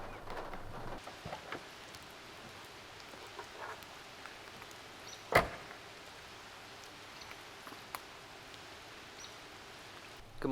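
Rain falling on a camping truck at night, a soft, steady patter with scattered louder drops and one sharp knock midway, quiet and close, with no voices.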